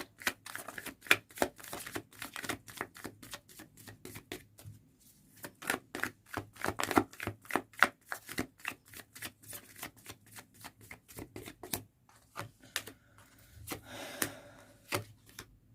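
Tarot cards shuffled and drawn by hand: rapid crisp riffling and snapping flicks in quick bursts with brief pauses, close and fairly quiet, no voices.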